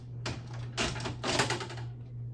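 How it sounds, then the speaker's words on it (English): A cassette tape ejected from a tape player gives a faint, close mechanical rattle and clatter in a few brief bursts over a steady low hum, with no voice. "now I'm going to go ahead and eject this tape now"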